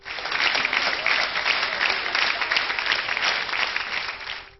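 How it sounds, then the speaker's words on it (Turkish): A concert hall crowd of music lovers gives a standing ovation after a classical piano recital, with loud, dense, sustained applause throughout and no voices. "Salonu tamamen dolduran müzikseverler sanatçıları ayakta alkışladı."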